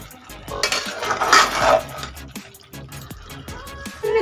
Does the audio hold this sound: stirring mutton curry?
yes